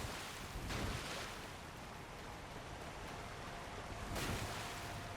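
Steady broadband rush of falling water from a waterfall in the video game Elden Ring, a constant roar with two brief louder swells, no voices.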